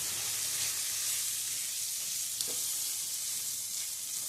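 Chili powder sizzling steadily in a hot pan of tomato rice, a continuous close frying hiss with a faint stir midway and no talking.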